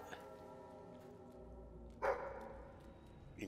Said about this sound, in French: Et le chien qui aboie.